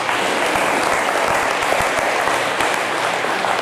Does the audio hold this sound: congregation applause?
yes